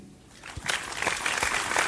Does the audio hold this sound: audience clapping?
yes